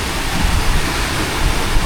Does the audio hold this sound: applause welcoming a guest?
no